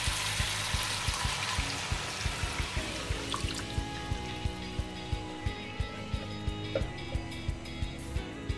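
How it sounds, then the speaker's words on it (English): About 300 ml of water is poured into a hot pan while cooking Hokkien mee, giving a splashing, trickling pour with a rising tone as it fills, over a steady run of soft rhythmic ticks. "And next, I'm going to add about 300 ml of water."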